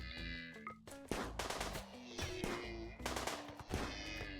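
Gunfire in Rimworld crackles in quick bursts, sharp repeated shots piling into rapid volleys over a few seconds, fairly faint and mixed with game sound effects.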